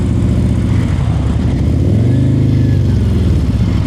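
A motorcycle engine during slow-speed riding practice, a close, loud, steady putter with a brief rise in revs midway before settling back to a low idle-like throb.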